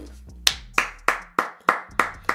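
Seven sharp, evenly spaced hand claps, close and dry, ringing out alone in a steady slow rhythm.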